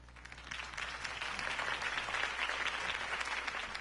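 Crowd applause in Batman: The Telltale Series, a dense, steady wash of many hands clapping that swells slightly and holds, sounding fairly distant.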